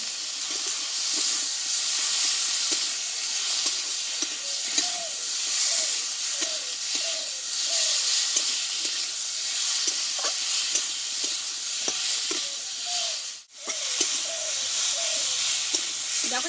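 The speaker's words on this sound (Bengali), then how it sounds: "এবার মশলা কষানোতে আমি একটু আলুগুলোকে আমি নাড়াচাড়া করে দেবো যাতে আলুর মধ্যে মশলাটা ঢুকে যায়" Potatoes being stirred and fried in a spice masala in a pan produce a continuous hissing sizzle with a regular series of scraping stirs, close and steady, briefly interrupted by one sharp dropout.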